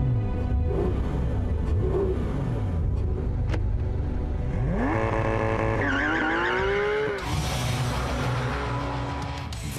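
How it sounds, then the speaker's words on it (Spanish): A Porsche 911 with 500 horsepower on a race track, engine loud and close, revving through rising gear pulls with sharp upshifts, tires squealing, continuous without speech. "Vamos en pista con un auto que aquí se siente cómodo"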